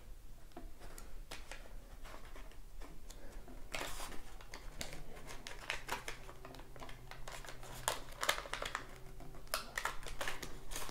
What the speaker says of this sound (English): I'm folding this in the center.